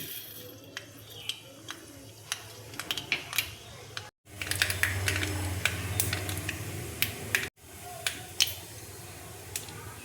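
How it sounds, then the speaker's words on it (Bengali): Mustard seeds tossed into hot oil crackle and pop in sharp, irregular bursts, with a sizzling stretch in the middle of the clip; the pops are close and clear. "তেল দেখো গরম হয়ে গেছে। এবার দেখো সরষে আমি দিয়ে দিচ্ছি।"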